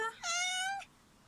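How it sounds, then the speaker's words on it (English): A female Siamese cat lets out a short chirp and then one long, clear, tonal meow close to the listener, followed by quiet. "I'll just show you my female Siamese"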